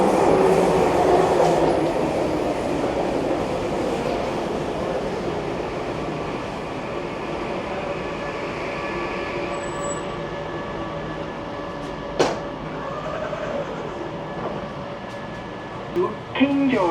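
A Vancouver subway train rumbles loudly into a station platform, a steady roar of wheels and motor with a couple of sharp squeals near the end, heard from near the rear.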